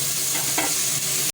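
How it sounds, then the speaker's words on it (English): Spices sauté in a hot pan with salt for an egg curry, giving a steady close sizzle and crackle with faint stirring, continuous until an abrupt cutoff at the very end. "Saute for 5 to 6 minutes all the spices."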